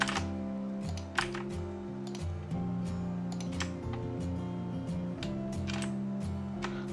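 Computer keyboard keys, including the Ctrl key, pressed during CAD drawing work in Inventor, heard as sharp clicks and ticks scattered over a steady tonal background hum.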